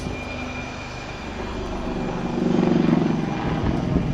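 The HAL Light Combat Helicopter flies away at the Aero India 2019 airshow. Its rotor and engine thrum stays loud and steady, then swells into a pulsing beat.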